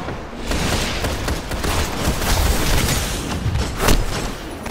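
A grenade blast and bursts of rapid gunfire from a Crucible match in the shooter game Destiny: The Taken King. The shots crackle densely and continuously, with a louder boom near the end.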